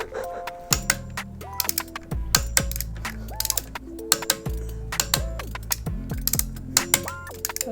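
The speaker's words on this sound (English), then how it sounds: "Torque wrench clicking and is so satisfying." A torque wrench ratchets and clicks repeatedly while tightening riser clamp bolts on a Harley Dyna motorcycle being built, giving a busy, irregular run of sharp mechanical clicks close by.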